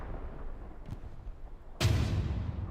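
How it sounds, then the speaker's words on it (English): An artillery shell lands in the World War II shooter Hell Let Loose, a single sudden heavy blast near the end that rolls on with a low rumble after a stretch of quiet background battle noise. "Artillery shell lands there behind the head."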